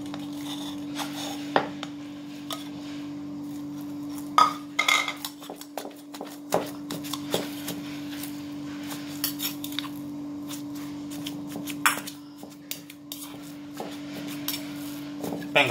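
Minced pork is worked into a pounded paste in a mortar, giving a run of irregular clinks, scrapes and knocks of utensil against the bowl over a steady background hum.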